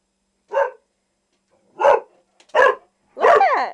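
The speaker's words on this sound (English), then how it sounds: "Look at that other dog." A dog barks four times in separate bursts spaced over a few seconds, the last bark longer and whining, fairly close and clear with silence in between.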